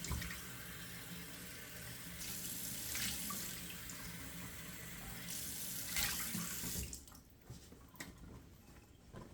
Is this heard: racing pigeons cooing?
no